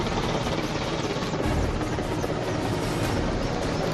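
A helicopter deployed to put out a fire gives a continuous, loud rotor and engine roar that stays steady throughout, with no one speaking.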